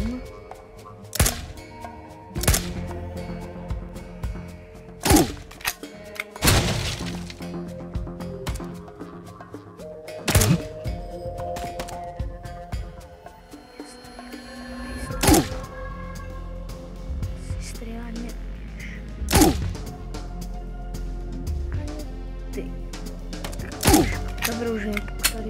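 Enemy sniper gunfire in a first-person shooter video game: sharp, loud shots spaced several seconds apart over a busy game soundscape, with someone talking in between.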